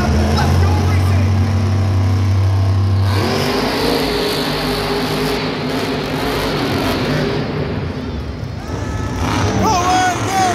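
Monster trucks racing at Monster Jam inside Ford Field in Detroit: loud, continuous engine roar that surges and revs under a booming arena announcer and crowd noise, with no break from start to finish.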